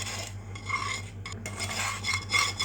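Egg whites being whisked together with melted sugar for homemade whipped cream, a steady scraping, rasping churn of the whisk against the bowl, continuous and fairly close, with no voices.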